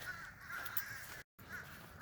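A large flock of about 150 crow-like birds calls with faint, distant caws over a continuous background, broken by a brief moment of total silence.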